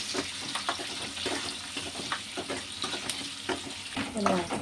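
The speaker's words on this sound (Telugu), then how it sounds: "ఈ తాలింపు బాగా యాగాలండి" Onions and curry leaves frying in hot oil for a tempering in an onion sambar, a steady close sizzle with scraping stir strokes throughout, a little louder near the end.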